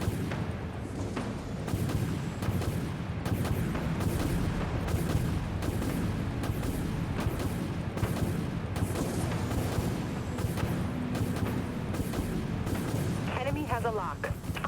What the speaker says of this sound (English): I launch torpedoes. Missiles away.